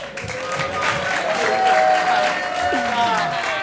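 An audience at an improv comedy show at Whole World Theater gives a steady burst of applause that stays loud throughout, with voices calling out over it.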